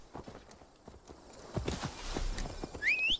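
Horse hooves clip-clop at a steady walking rhythm in the video game Assassin's Creed Valhalla, fairly loud and close, ending with a rising whinny-like squeal over a low rumble.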